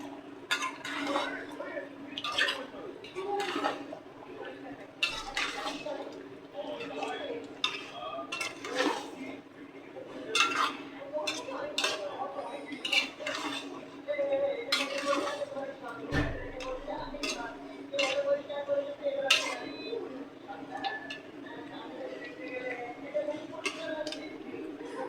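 Pots, pans and utensils clink and clatter irregularly in a home kitchen as meat goes into a pot during cooking, light metallic taps and scrapes continuing throughout, with a voice talking at times.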